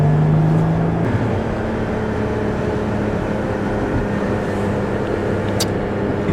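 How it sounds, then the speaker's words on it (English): Engine of a Porsche Panamera rumbling and revving nearby, a steady loud throaty drone through the whole stretch with a brief higher engine note near the start. "She's throaty, sporty, and she rips. Jaguar. No, it's a Porsche Panamera."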